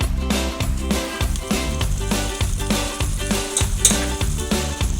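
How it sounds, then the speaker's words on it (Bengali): Prawn malai curry gravy with green chillies and a spoonful of fennel paste simmers and sizzles in a pan, a close, steady bubbling broken by regular pulsing stirs, with no voices. "এই গ্রেভিটা ততক্ষণে ফুটতে থাকুক। তো আমি এখন এখানে 1 চামচ পরিমাণ মৌরি বাটা দিলাম"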